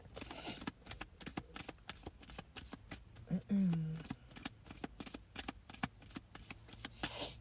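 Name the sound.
shuffling tarot cards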